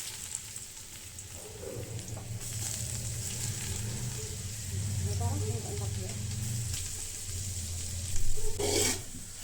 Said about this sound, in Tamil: இப்போ அதே நெய்யில் துருவி வச்சுருக்க சொரக்காவை சேர்த்துக்கணும்.